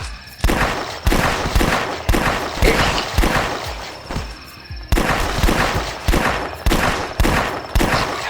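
Rapid bursts of gunfire from the Flash zombie shooter The Last Stand, a steady run of loud, evenly spaced shots about every half second with brief pauses between volleys, with no talking.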